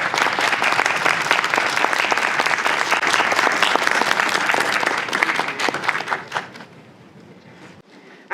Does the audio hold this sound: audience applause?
yes